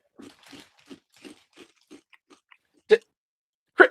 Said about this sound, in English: I hear him chewing on something